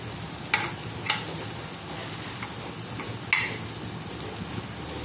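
Mixed-lentil appe batter frying in oil, a steady soft sizzle and crackle throughout with a few brief sharper clicks standing out, moderately faint and heard alone.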